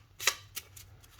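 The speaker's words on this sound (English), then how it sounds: "take the 6 starter cards, shuffle them up" A quick riffle of playing cards being shuffled, a sharp rustling burst followed by a couple of softer flicks, close and brief.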